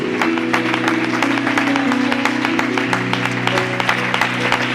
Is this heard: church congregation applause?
yes